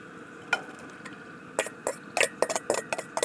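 Chorizo sausage and onion cooking together in a pan on a Coleman gas camping stove outdoors, with scattered clicks, scrapes and taps of stirring over a faint sizzle, close up and without talk.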